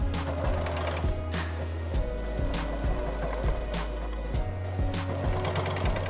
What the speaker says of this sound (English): So we're just sewing that elastic directly onto the cup